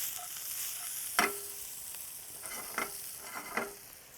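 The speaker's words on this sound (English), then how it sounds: "I think my bacon are cooked enough." Bacon fries in a pan with a steady soft sizzle, broken by a few sharp clinks and scrapes of a utensil against the pan.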